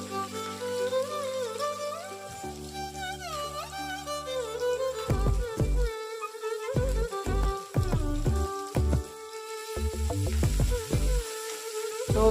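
Onion frying in a pan for upma, a steady sizzle and crackle running throughout beneath louder music with a pulsing beat.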